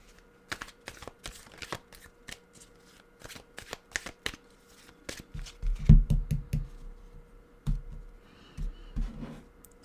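Tarot cards being shuffled by hand, a run of crisp riffling flicks and soft taps that builds to a denser, louder burst of card handling midway, fairly close and with no voice over it.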